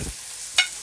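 Onions going into a hot pan for a tuna pastel filling: a short, soft rustle of stirring, then one sharp hiss of sizzle near the end, close and fairly loud, with no talking.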